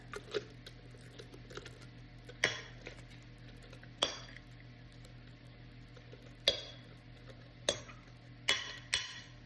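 A spoon scrapes and clinks against a dish while bread is added for a coconut bread pudding, giving sparse, irregular sharp taps over a quiet kitchen background.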